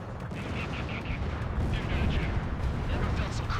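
Naval artillery shells fire in Ace Combat 7 as a dense, continuous rumble of booms and blasts, loud and steady throughout, with voices speaking over it.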